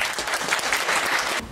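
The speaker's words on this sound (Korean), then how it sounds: "김준수 교수님께 다시 한번 감사의 박수 부탁드립니다" Audience applause at a university academic festival talk concert, thanking a professor: dense, close clapping that fills the hall evenly, then drops off sharply near the end.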